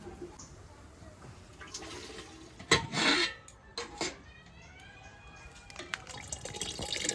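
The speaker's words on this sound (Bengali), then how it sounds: "জল মাপে দিছি, এই মাপের জলেই এই অবধি জল দিছি।" Measured water poured from a vessel onto rice in a cooking pot, a brief splashing gush followed by smaller trickles and drips, faint background room noise.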